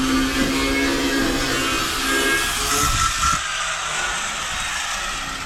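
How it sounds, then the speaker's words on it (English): A grinder works continuously over welds on a tube-front roll cage kit for a Nissan S14, a steady harsh whine that tapers off near the end. "So I'm grinding down all my super shitty welds"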